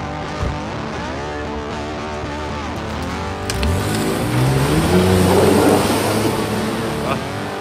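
A car engine revs hard as the driver accelerates, its loud, close whine climbing steadily in pitch with a rising roar through the second half.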